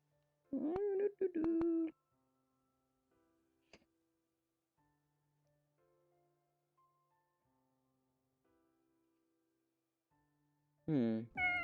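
Several domestic cats meow in a short played recording, a cluster of loud meows at the start and another near the end, separated by quiet ticking and faint tones.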